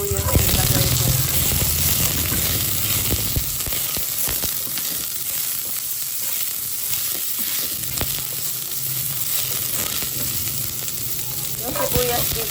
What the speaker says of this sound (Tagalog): Yung ating sibuyas ilagay ko na